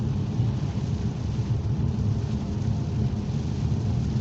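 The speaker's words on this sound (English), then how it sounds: "Cornwall when it comes to heavy rainstorms" Heavy rainstorm with thunder, heard from inside a car driving through Cornwall: a dense, loud, continuous roar of rain and deep rumbling fills the whole stretch with no let-up.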